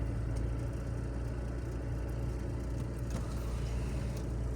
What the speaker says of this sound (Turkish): Fevkalade uzun bir trafik var.